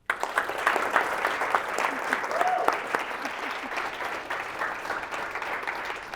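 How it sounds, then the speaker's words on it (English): An audience at an entrepreneurship speaker series claps for Mikey, steady, full applause from a roomful of people that starts abruptly and eases slightly toward the end. "if you'll give her a round of applause."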